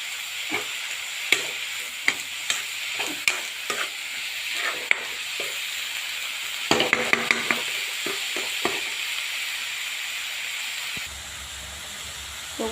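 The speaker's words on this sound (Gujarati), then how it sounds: "બહુ સરસ મજાનું શેકાઈ રહ્યું છે." Salted momo filling roasting in a pan gives a steady sizzling hiss, with repeated scraping stirs and clinks of the spoon spread through the whole clip.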